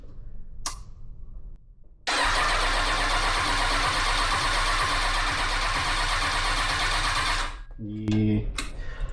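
Kawasaki ZX6R 636 motorcycle engine cranking over without catching, a loud steady starter whir lasting about five seconds, with short bursts of mechanical noise before and after.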